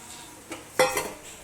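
A utensil stirs a masala curry of breadfruit in a pan after coconut milk goes in. Two brief metallic scrapes and clinks against the pan sound close and fairly quiet, and there is no talk.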